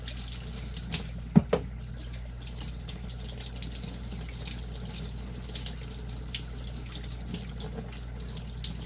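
Tap water runs steadily into a sink as an aquarium sponge filter is rinsed clean, a constant hissing stream at close range with two brief knocks early on and no talking.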